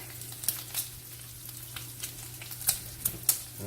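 Bacon frying in a pan, a quiet steady sizzle with a low hum beneath and scattered sharp pops and crackles, the loudest spits clustered near the end.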